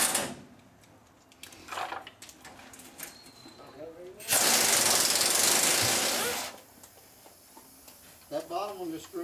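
A pneumatic impact wrench rattles loudly in one sustained burst, backing out a threaded pin on a 1965 Chevy C-10 truck in a shop, with someone talking and tools clinking before and after.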